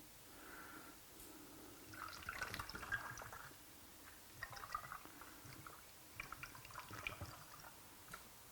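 Adam's liquid wheel cleaner poured from a bottle into a spray bottle without a spout, giving intermittent splashing trickles and drips in short bursts, close and fairly quiet, with no talking.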